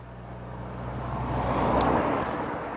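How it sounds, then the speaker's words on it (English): A car approaches from behind and swells past a rider pulled over on a folding electric cargo bike, a broad rising roadway rumble peaking midway and easing off, with steady wind noise throughout and no talk. "There is a car coming behind me."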